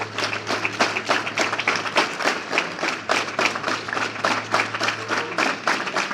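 A group of students clap their hands in rhythm at a morning school assembly, steady rapid claps, fairly close and loud, with a low steady hum underneath and no talking.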